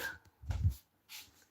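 A dog gives a short whimper between soft, breathy snuffles, close by in three quick bursts with quiet gaps between.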